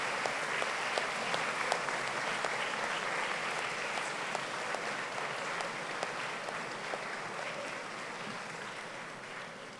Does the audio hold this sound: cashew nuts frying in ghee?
no